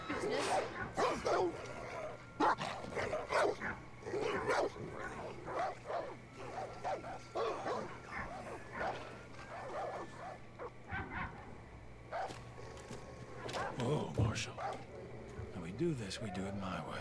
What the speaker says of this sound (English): Not a big fan of these dogs